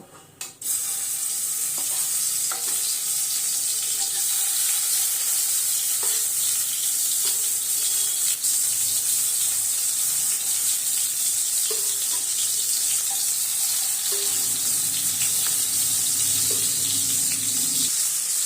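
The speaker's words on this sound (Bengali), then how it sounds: "সর্ষের তেল ভালো করে গরম হয়ে এসেছে এবার এর মধ্যে মাছগুলোকে দিয়ে নেব" A steady, loud sizzle of hilsa fish frying in hot mustard oil that goes on throughout, with occasional faint pops and clinks.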